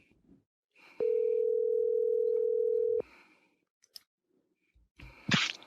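A telephone dial tone on an outgoing call: one steady, clear tone lasting about two seconds, with a few soft clicks and a brief burst of noise after it.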